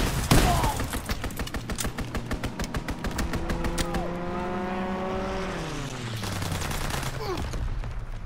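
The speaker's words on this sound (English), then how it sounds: "Fighter pilot inbound. Strafing the target." In the Call of Duty WWII video game, a fighter plane makes a strafing run: rapid bursts of machine-gun fire rattle loudly, then an aircraft engine roars past with a falling pitch sweep before more gunfire.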